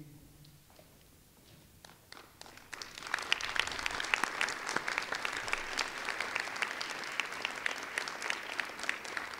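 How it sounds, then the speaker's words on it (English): Applause from a Veterans Day ceremony audience, starting quiet and sparse, then swelling around three seconds into steady, full clapping that continues to the end. "Let's hold the applause till we do all of them."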